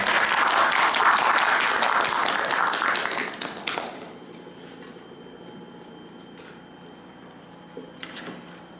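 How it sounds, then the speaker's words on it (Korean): Audience applause at a student mock cabinet meeting stage performance by a university public administration department, a dense burst of clapping for about four seconds that quickly fades out, leaving a quiet room with a few faint scattered sounds. "큰 박수 부탁드립니다."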